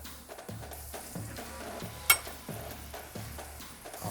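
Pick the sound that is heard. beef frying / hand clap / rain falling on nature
beef frying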